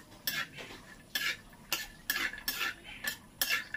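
Peanuts stir-fried in oil in a pan: about eight quick scraping strokes of a utensil against the pan, spaced irregularly over a faint background sizzle.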